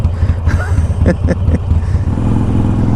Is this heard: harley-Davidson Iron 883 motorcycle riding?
yes